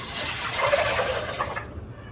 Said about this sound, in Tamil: இப்போ நான் வந்துட்டு இதில் தண்ணி சேர்த்துக்கிறேன்.